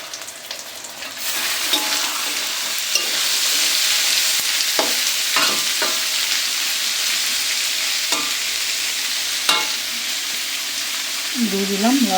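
Potatoes fry in a pan with onion, garlic and dried kachki fish, giving a loud, steady, close sizzle that runs throughout, with a few brief utensil clinks and taps and no talking.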